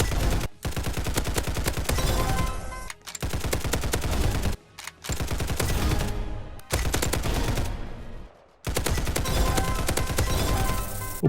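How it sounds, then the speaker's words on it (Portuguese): Rapid automatic gunfire in a Roblox first-person shooter game resembling Call of Duty, loud dense bursts of shots running almost continuously with a few brief pauses between volleys, no voices. "Achei esse outro aqui de tiro que parece uma espécie de COD."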